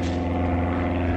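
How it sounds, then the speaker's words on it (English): A helicopter flies overhead at night above an abandoned mental hospital, giving a loud, steady, droning engine and rotor hum with no talk. "Guys, it's a freaking helicopter."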